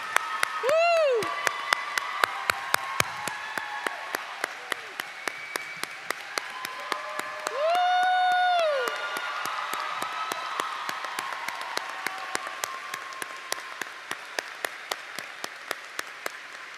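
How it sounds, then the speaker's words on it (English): A commencement crowd applauds the class of 2025 with sustained clapping, while an amplified voice cheers through the steady applause. "One more big round of applause for the class of 2025."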